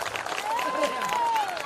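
An audience at a Hindi comedy poetry show breaks into dense, sustained applause, a steady wash of many hands clapping with a voice faintly audible over it.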